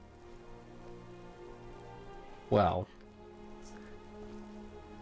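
Steady rain falls in the video game Skyrim, a soft continuous hiss under a low hum, briefly broken midway by a single short spoken word.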